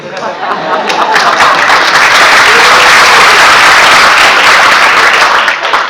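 Lecture audience giving Dr. Norman Finkelstein a standing ovation, loud, dense applause that swells and holds steady for several seconds, with a few voices mixed into the clapping.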